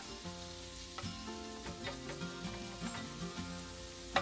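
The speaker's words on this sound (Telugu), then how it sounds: "ఇప్పుడు ఆ ఆయిల్లోకి ఇలా ముక్కలుగా కట్ చేసుకున్న బీరకాయని మొత్తం యాడ్ చేసుకోవాలి. యాడ్ చేసుకుని ఒకసారి బాగా కలుపుకోవాలి." Ridge gourd pieces fry in hot oil in a pan, a soft continuous sizzle broken by scattered clinks and scrapes of stirring, fairly quiet and close.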